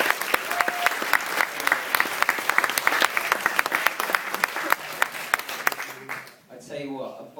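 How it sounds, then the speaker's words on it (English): Wedding guests clap for the catering team, a dense round of applause from the room that fades near the end as a voice starts talking. "Can we just give a round of applause to the catering team?"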